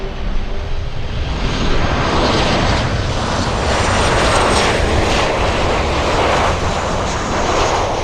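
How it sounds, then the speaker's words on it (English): A Boeing 767 airliner takes off at Miami International Airport, its engines making a loud, steady roar. The roar builds and holds throughout, with no voices over it. "We have a 767 takeoff."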